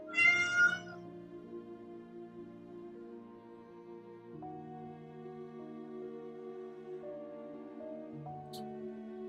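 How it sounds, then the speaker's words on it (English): A cat gives a short loud meow at the start, close by in an art studio, followed by several seconds of steady tonal background sound with no further clear calls. "Hello, baby cat. What you yelling about?"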